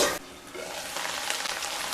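Potatoes steam and sizzle in a pan over medium-low heat while being stirred, a broad, close hiss that dips briefly, then returns as a steady, slightly bubbling sizzle with no talking.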